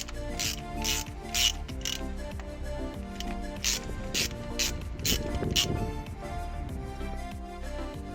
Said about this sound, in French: avec l'aide d'une clé de 14, déposez les 8 vis de la fusée